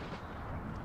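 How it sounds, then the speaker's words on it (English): Artillery fire in the Napoleon Total War battle game, heard as a dull, steady low rumble of distant cannon shots, with one slightly heavier thump at the very end. "These sir. guys are suffering artillery shots"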